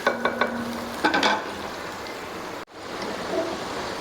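Onions frying in oil to light brown for an aloo baingan dish, a soft steady sizzle with a few clinks and stirring scrapes near the start, close and moderate in level.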